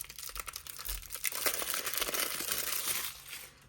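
Plastic wrapper of a Magic: The Gathering Foundations foil starter deck being torn open and crinkled, close and fairly loud, a steady stretch of crackling that rises after the first second and fades out near the end.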